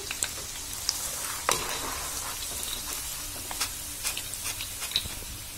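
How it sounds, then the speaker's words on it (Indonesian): Peanuts frying in hot oil in a pan, a close steady sizzle broken by scattered sharp crackles and pops, with no talking. "peanut atau kacangnya sudah masak, saya goreng"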